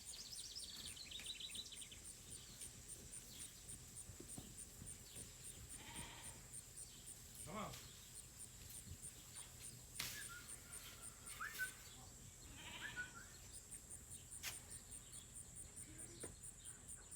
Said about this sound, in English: let's go ahead and make that sheep move.